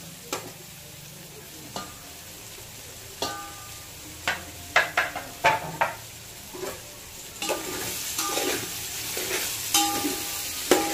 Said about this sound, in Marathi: टमाटर याच्यामध्ये आपण मस्त मिक्स करून परतून घेऊया